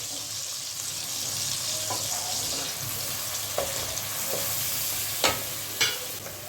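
Ground coriander, cumin, chili powder and ginger-garlic paste frying in oil for doi katla, a steady close sizzle with occasional sharp spatula scrapes and taps against the pan.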